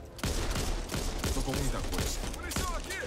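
Rapid gunfire in the zombie shooter game Back 4 Blood, a dense run of repeated shots over busy game noise, with a voice talking over it.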